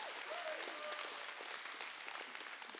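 Applause and hand clapping fill a church congregation, a dense, steady wash of many hands close by, with brief shouts and a faint sustained tone rising from the crowd.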